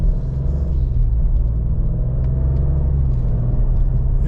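A 2024 Maserati GranTurismo Trofeo with big tires cruises down the road, a steady, loud low engine rumble and tire drone running continuously and close, with no talking over it.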